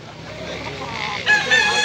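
A rooster crows from a Cebu fighting-cock yard, the call rising partway through over a steady outdoor hiss; another bird sounds faintly nearby, with no talk over it.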